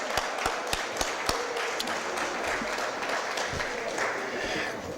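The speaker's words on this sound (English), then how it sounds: "let's give her another big round of applause" Audience applause at a city Board of Aldermen meeting, a steady wash of clapping with a few sharp individual claps near the start, sustained for several seconds at moderate distance.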